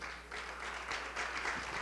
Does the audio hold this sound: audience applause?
yes